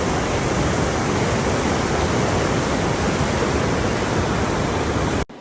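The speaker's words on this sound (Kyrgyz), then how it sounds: "өзгөчө жамгыр баштап атат" Rain setting in beside a rushing mountain river among juniper trees gives a loud, dense, unbroken hiss of water that fills the whole stretch, then cuts off abruptly just before the end.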